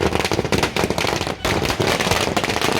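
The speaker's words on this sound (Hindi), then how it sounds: "वहीं इस खुशी के मौके पर पटाखे भी फोड़े गए।" Firecrackers burst at a roadside political celebration in Asansol, a dense, loud, rapid string of crackling pops going on without pause and with only brief gaps.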